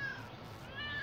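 A cat meows in the video game Lego City Undercover, two drawn-out mews at the start and end of a brief, fairly quiet stretch over faint game ambience.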